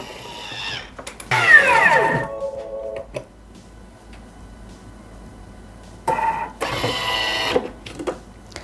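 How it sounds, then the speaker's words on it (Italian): A Thermomix (Bimby) blade chops biscuits at speed 10 in its bowl, a loud whirring, grinding burst lasting about a second, followed by quieter clatter and a second long loud grinding run near the end. "E li facciamo tritare per 10 secondi"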